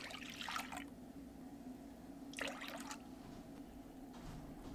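Water poured into a kneading bowl while making dough, two short splashing bursts a couple of seconds apart over a low steady room hum, fairly faint and close.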